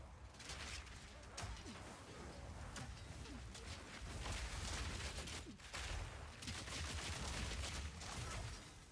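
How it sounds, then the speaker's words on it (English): Gas grenade explosions in Path of Exile 2, a rapid string of bursts and crashes layered over dense game combat noise, steady and loud throughout with brief dips. "Oh yeah, gas grenade."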